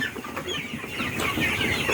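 Sonali High Super Plus chicks on a poultry farm, a dense chorus of many birds clucking and peeping continuously at close range, no voices.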